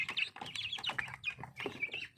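Bangkok chickens kept on a small farm give a soft mix of clucks and chirpy calls, close but quiet, in short, uneven bursts with no talking.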